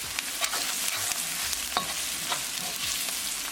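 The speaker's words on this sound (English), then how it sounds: "Add all the spices, coriander powder, black pepper, cumin powder, salt. Mix it well." Spices (coriander powder, black pepper, cumin powder and salt) stirred into frying onions in a pan: a continuous sizzle with scraping spoon strokes, close and steady, no voices.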